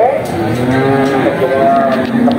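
Cattle at the Bekonang livestock market in Indonesia give a loud, close, drawn-out moo over the constant bustle of the market.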